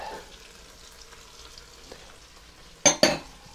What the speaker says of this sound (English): we're gonna toss in the rice. Gonna toss in the garlic. Get in there. The peppers.